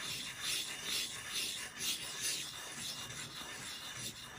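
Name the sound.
sharpening spokeshave blade on 300 grit stone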